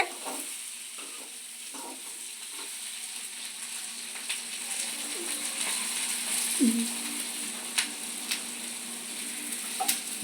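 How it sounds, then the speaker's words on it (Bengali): Cumin powder being stirred and fried in a home kitchen pan gives a steady close sizzle with scraping stir strokes and a few sharp clicks, no voices. "জিরের গুঁড়ো দিয়ে উনি একটু নেড়ে নিচ্ছে বন্ধুরা, কেন জিরেটা একটু ভাজার দরকার আছে।"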